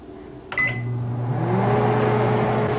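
A microwave oven hums steadily while heating ice cubes and water, a low continuous drone with a brief click and beep near the start as it powers up.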